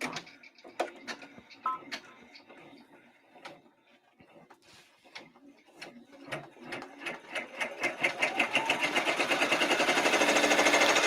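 An embroidery machine stitches a satin border on an applique, starting with scattered mechanical clicks and taps, then building into a fast, steady rhythmic stitching that grows louder and denser toward the end.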